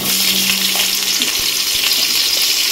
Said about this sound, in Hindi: तापर आमे आलू को भाजीदवा